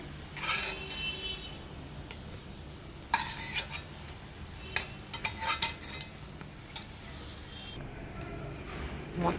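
Masala fish vada frying in a pan until golden, heard as a soft steady sizzle with scattered utensil scrapes and clinks against the pan, fairly quiet and close.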